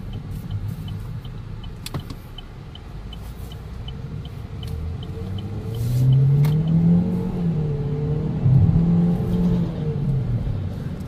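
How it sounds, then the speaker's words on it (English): A Chevy Cruze hatchback accelerates on the road, its engine note rising into a loud, steady drone heard from inside the cabin, with a few clicks and no talking. "A lot of engine noise, pretty loud."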